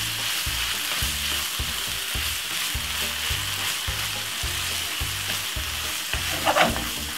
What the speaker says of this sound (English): slightly by just adding a little bit of ketchup inside of it. Nice one. Give it a stir.